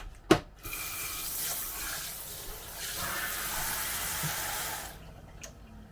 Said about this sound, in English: Just pouring some into a jug